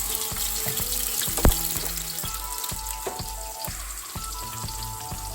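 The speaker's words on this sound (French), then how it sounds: "j'attends l'huile chauffer et j'y verse des oignons à l'intérieur de cette huile chauffée." Onions crackle and sizzle in hot oil in a pot, with bubbling spatter and a sharp clink of utensil against metal midway, steady and close.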